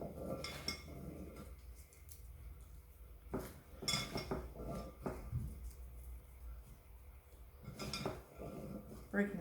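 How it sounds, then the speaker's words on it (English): A knife taps and thuds against a cutting board in irregular chops through potatoes cut into large cubes, with clinks of kitchenware and a voice talking at times. "we're just roughly chopping those potatoes into large cubes"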